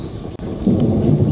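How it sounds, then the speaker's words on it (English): Thunder from a storm rumbles steadily and fairly close in an outdoor homestead setting, a deep continuous roll that swells slightly partway through. "we got constant thunder going on right now"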